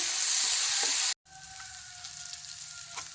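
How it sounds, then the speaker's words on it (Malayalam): Jackfruit, chili and onion sauté in hot oil with a steady, close sizzle and hiss. After a brief cut, the frying continues a little quieter under a faint tonal hum. "ഇനി നമുക്കിത് എണ്ണയിലേക്ക് ഇട്ടൊന്ന് വഴറ്റിയെടുക്കാം."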